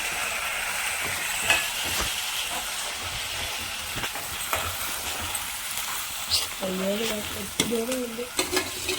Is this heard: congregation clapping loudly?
no